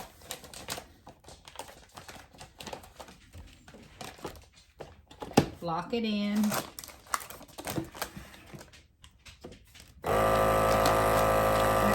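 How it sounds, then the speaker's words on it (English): A vacuum sealer seals a bag of cabbage for freezing, a steady loud motor hum that kicks in near the end after rustling and handling of the bag while a person talks. "I will put in my vacuum sealer here."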